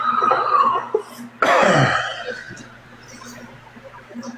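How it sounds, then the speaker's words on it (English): A single sharp cough bursts out after some muffled throat sounds, then trails off into quiet room noise. "I'm sorry I keep coughing."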